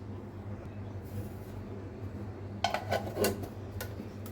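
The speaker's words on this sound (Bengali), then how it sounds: "এই যে ঢাকনা দিয়ে ঢেকে দিলাম" A metal lid clanks onto a pressure cooker partway through, a short burst of clattering over a low steady kitchen hum.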